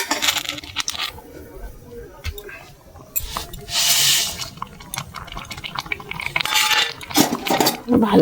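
Grated carrot and vermicelli halwa cooking in milk in a pot, stirred with a metal spoon that clinks and scrapes against the sides, with wet bubbling and spoon knocks in an irregular rhythm.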